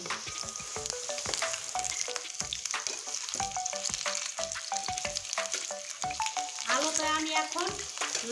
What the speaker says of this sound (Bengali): এবার আলুটা আমি এই দিয়ে উল্টিয়ে দিচ্ছি